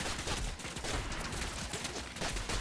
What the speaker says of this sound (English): Oh shit, I'm getting shot by some guy.